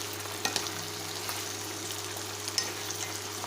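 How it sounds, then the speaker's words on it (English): Carrots and green beans being sautéed and tossed together in a pan, a steady low sizzle with a few soft scraping stirs, heard close and alone. "we will add the carrots and the beans and mix it together"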